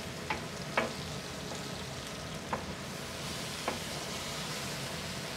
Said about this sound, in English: You see this onion cooking and you feel the flavor, right?